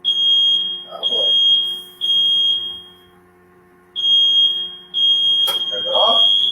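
A kitchen smoke alarm goes off while mushroom soup is cooking on the stove, loud piercing beeps in long bursts with a gap in the middle, and a voice speaks briefly between them.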